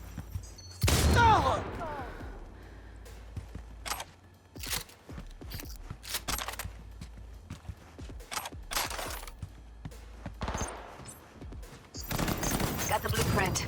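Gunfire from the Cyberpunk 2077 video game crackles in loud bursts, one heavy volley near the start and repeated sharp shots through the rest, set against a steady low rumble and a final dense burst.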